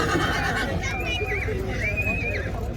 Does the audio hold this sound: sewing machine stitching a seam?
no